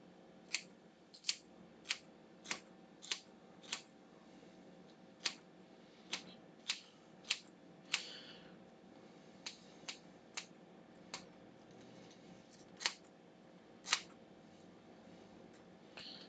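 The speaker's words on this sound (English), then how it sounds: "We can do this easy with the scissors as well. Take off the dry bit, take off the dry bit" Scissors snip off the dry bits of herbs in a kitchen, giving a series of crisp, close metallic cuts at an uneven pace, about twenty clicks with short pauses between them and no talking.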